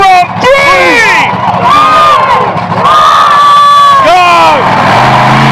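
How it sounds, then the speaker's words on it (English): A large crowd at a monster truck show shouts loudly together in rising, rhythmic bursts, with children's voices and whoops mixed into the cheering. "let's let him hear us counting down from 3"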